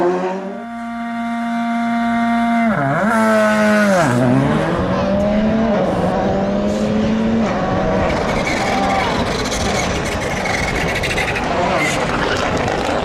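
A Volkswagen Polo GTI R5 rally car races along a Welsh road stage at Rali Ceredigion, its engine loud and close, revving hard with sharp gear-change dips before settling into a sustained high roar.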